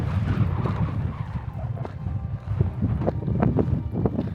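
Wind gusting across a mountainside in the Pyrenees, where pilgrims climb into the wind, a steady low roar buffeting the microphone with rising and falling surges and no talk.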